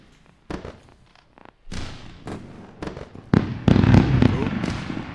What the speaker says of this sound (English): You can't be productive without fireworks.